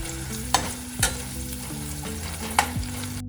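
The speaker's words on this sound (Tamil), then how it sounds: "அனியனா நல்லா வதக்குங்க. கோல்டன் ப்ரௌன் கலர் வரும் வரைக்கும்." Sliced onions frying in hot oil as a base for Hyderabad chicken biryani, a steady close sizzle with a few sharp clanks and scrapes of stirring spaced through it; no talking.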